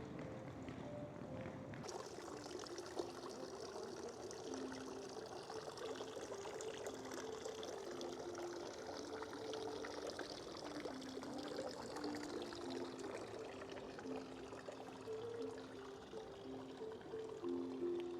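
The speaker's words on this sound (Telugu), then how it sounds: "ఇక్కడ చిన్న వాటర్ ఫౌంటైన్ ఉంది." Steady splashing and trickling water from a small fountain in a town centre, in a village straddling Switzerland and Germany, runs continuously at moderate distance with no talking.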